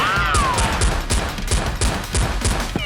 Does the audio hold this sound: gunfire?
yes